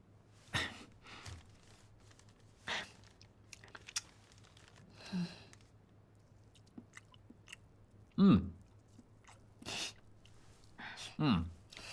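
Someone chewing food in a quiet indoor scene, soft crunchy bites in separate bursts spaced a few seconds apart, close and fairly faint, with a little talk between them.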